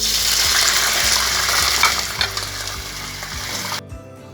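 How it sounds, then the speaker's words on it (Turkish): Peppers frying in a hot pan of oil, a loud dense sizzle and crackle with bursts of spitting that swell and fade, ending abruptly into near silence. "Şimdi de biberlerini kızartacağım"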